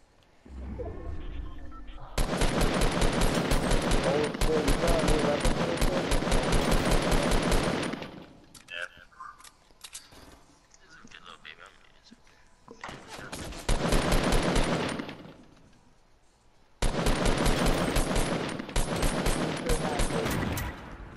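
Bursts of automatic gunfire in the battle royale game Fortnite come in three long, loud rapid-fire volleys with short quiet gaps between them.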